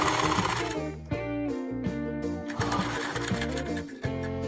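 A sewing machine top-stitches the lining fabric on the front part of a princess blouse, running in quick stitching bursts with brief pauses between them and light handling noise.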